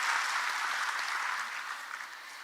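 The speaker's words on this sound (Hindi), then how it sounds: "तालियों से स्वागत करेंगे" Steady audience applause welcomes an honoree at a ceremony where a chief minister meets successful civil-service exam candidates, dense, even clapping filling the hall for a couple of seconds with no talk over it.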